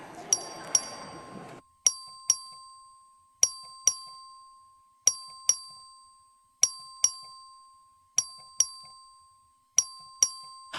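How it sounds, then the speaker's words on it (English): Electronic bell in a state legislative chamber, struck in repeated paired dings during a record vote on a redistricting amendment, ringing steadily and clearly with a long sustained tone; a low murmur of voices at the start. "Clerk ring the bell."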